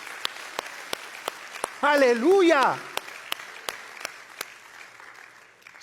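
A church congregation claps in a slow, steady rhythm of sharp, separate claps, while a voice calls out briefly over them.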